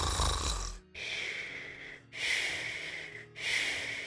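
Snoring in three long, rhythmic, wheezing breaths with a whistling tone, separated by short pauses and fairly quiet, preceded by a brief low rumble.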